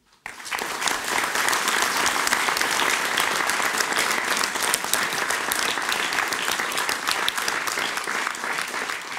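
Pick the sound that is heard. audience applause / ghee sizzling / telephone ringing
audience applause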